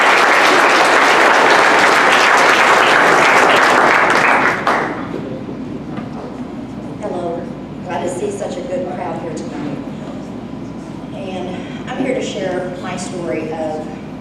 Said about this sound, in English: y'all help me welcome her with a warm applause